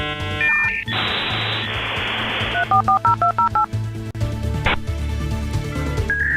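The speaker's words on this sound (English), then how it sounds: "The old dial-up service?" AOL dial-up internet modem connecting: a dial tone, a burst of hiss, a rapid run of touch-tone dialing beeps, then screeching handshake tones, loud and close.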